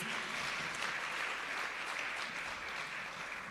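Audience applause fills a ministry recognition ceremony, a dense steady wash of clapping from many hands that holds evenly throughout at moderate volume.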